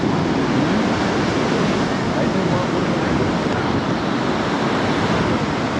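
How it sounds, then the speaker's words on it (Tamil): Steady broadband wash of sea waves at the shore near Velankanni church, a continuous surf roar with wind buffeting the microphone throughout, loud and close without distinct breaks. "கடல் அலை தெரியுது"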